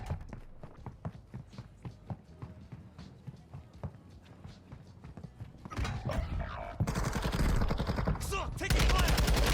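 Video game gunfire from Warzone 2.0 Rebirth on Ashika Island: rapid automatic shots crackle in a dense, steady stream under game sounds, then build into a louder, denser barrage toward the end.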